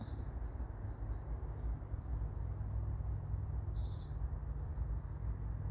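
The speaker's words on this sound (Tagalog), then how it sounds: "Maririnig mo lang yung mga huni ng ibon at saka yung mga insekto." Faint, high bird calls chirp now and then in the distance in a forest over a low, constant rumble of background noise.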